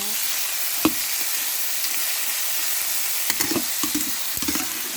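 Rice being stir-fried in a hot pan for seafood tom yum fried rice, giving a steady sizzle with a few sharp scraping and clanking spatula strikes near the end.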